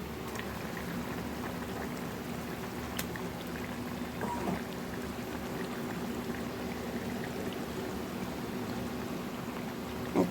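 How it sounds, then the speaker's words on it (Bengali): Omelet curry gravy simmering at a steady boil in a pan, a continuous soft bubbling and burbling that holds even and fairly quiet throughout, with a faint clink near the end. "ঝোলটা ভালো করে ফুটে উঠেছে, আমি অমলেটগুলো সবগুলোই দিয়ে দিচ্ছি।"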